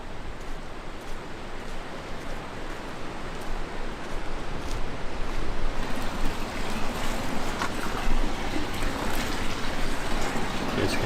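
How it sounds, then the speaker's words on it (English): Steady running water from a stream below a waterfall, a dense continuous rushing wash with no breaks, heard outdoors at a moderate distance. "You guys can hear there's some steady running water down there."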